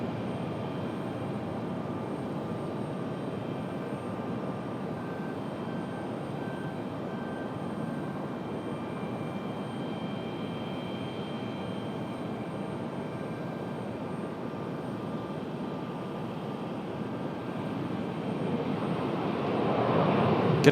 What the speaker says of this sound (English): There is our flight from DCA.